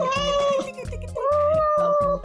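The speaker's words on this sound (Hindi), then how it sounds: "इतना प्यार करते हो ना तो बिल्ली को संभाल के रखो" A cat gives two long, loud, close meows, one after the other, over a low steady background hum.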